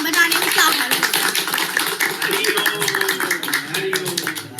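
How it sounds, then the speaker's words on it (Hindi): Crowd applause at a memorial gathering: many hands clapping together in a dense, continuous patter that swells slightly, close and fairly loud, with a voice speaking over it. "कुछ तालियां भी हो जाए तो श्रद्धांजलि में ये मिठास भरे"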